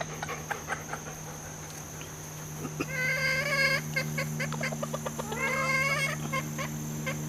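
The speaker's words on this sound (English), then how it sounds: "There's my one big chicken, grab it." Chickens cluck and squawk close by in a backyard flock, a burst of repeated harsh calls in the middle over a steady low hum, with scattered short clucks before and after.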